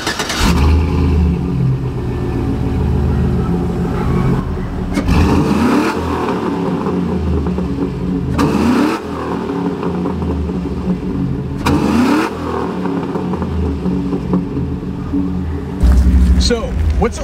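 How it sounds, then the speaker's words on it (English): Chevrolet SSR with a 5.3-litre V8 revving in loud, sustained bursts, the engine note rising and falling a few times at close range. "being a V8, it sounds absolutely fantastic"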